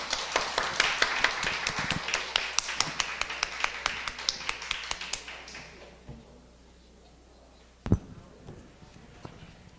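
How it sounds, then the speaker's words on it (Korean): An audience at an academic theological conference claps to welcome a speaker, a dense patter of applause that thins out and fades after about six seconds, followed by a single sharp knock. "박수로 맞아주시면 감사하겠습니다."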